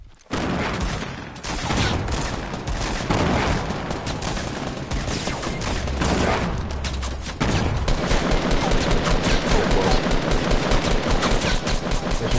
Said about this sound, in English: Throwing grenades in.